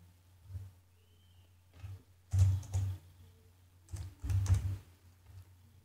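Keys on a computer keyboard are typed in short bursts of soft clicks, close and quiet over a low steady hum, with pauses between the groups of keystrokes.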